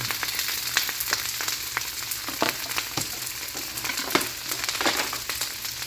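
Chicken and cabbage stir fry vegetables hitting a hot pan, a dense, lively sizzle throughout with frequent sharp crackles and pops and occasional stirring scrapes, close up and without speech.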